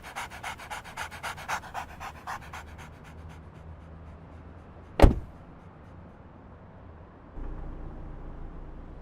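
Dog panting in rapid rhythmic breaths near the start, fading out, then a sharp bang like a car door closing midway and a low rumble of a vehicle afterward.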